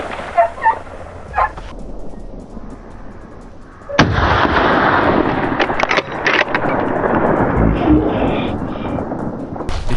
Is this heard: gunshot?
yes